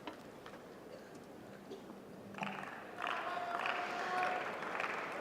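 A Wimbledon tennis crowd at a Sabalenka–Ostapenko match breaks into applause after a quiet lull, the clapping swelling and holding at moderate distance, fairly faint overall.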